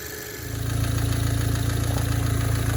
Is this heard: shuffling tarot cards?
no